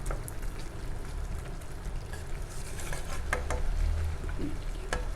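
Prawn gravy simmers and bubbles in a pan, giving a constant moderate sizzle with scattered sharp ticks and a brief low scrape as it is stirred, with no talking.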